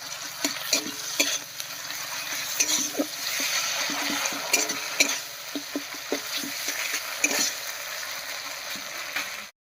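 Dry chilli, cumin and coriander pastes with ginger-garlic paste stirred in a pan while cooking elephant foot yam, a steady sizzle broken by repeated scraping strokes of the spoon, close and moderately loud with no talking.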